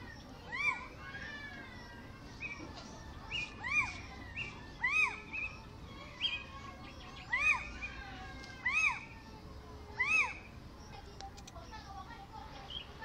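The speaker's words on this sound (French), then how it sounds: "voici donc la chevêche d'Athéna que l'on réécoute" A little owl calls repeatedly at night, sharp rising whistled notes repeated at a steady interval of about one to two seconds, mid-distance over a faint hiss of background noise.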